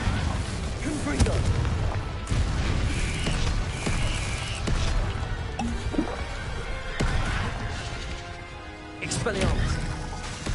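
Fiery Confringo spell blasts in the Hogwarts Legacy video game, a string of booming, crackling impacts scattered through a dense, busy battle mix, with spoken voices mixed in.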